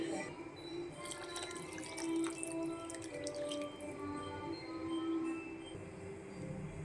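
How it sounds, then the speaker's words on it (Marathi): Water goes into a pot of Khandeshi khichdi, heard as faint, quiet trickling and dripping against a low background hum. "खिचडीमध्ये पाणी टाकून घ्यायचं आपल्याला."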